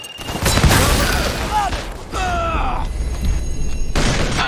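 A grenade bursts in the Xbox 360 game Army of Two: The Devil's Cartel as a loud, close boom, followed by rumbling battle noise while voices shout over it.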